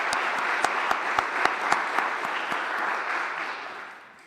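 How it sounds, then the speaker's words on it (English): Enthusiastic applause from an audience at a live local event in Philadelphia, honoring a grant program; a dense, steady wash of clapping with a few sharper individual claps standing out, holding strong before fading out at the end. "how about a round of applause for that grant program?"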